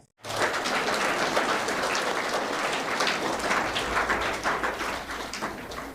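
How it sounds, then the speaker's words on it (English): An audience applauds two teams at an intra-school English debate competition, a dense, steady wash of clapping that holds for several seconds and eases slightly at the end. "So clap for Team A and Team B."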